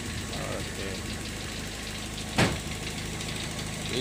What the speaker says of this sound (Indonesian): Inilah, bro, suara mesinnya